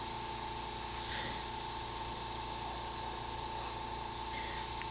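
Continuous airbrush spraying paint, a steady fine hiss with a faint high tone underneath and a brief swell near the start, close and unbroken throughout.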